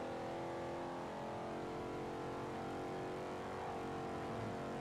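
A race car engine in Forza Horizon 2 drones at steady high revs, a continuous strained tone holding without pause, fairly faint and alone with no talk.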